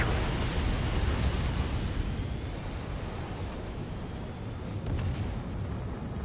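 Missile strike explosion in the Ace Combat 7 flight game, a loud, sustained roaring blast of broadband rumble that slowly eases, with one brief sharp crack near the end and no talk.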